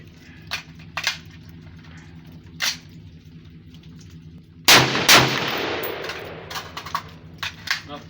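Colt rifles fire on a range in a short string of sharp, loud shots, with a heavier blast and ringing tail midway.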